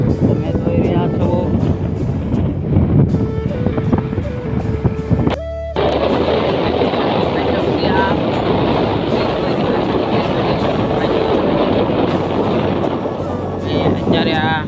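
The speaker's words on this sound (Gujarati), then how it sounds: "અત્યારે રેલગાડી નીચે આવી મિત્રો" A train passing a railway level crossing near a station, heard as a loud continuous rumble and rattling roll with clickety-clack, while voices and a tonal sound come through in the first few seconds.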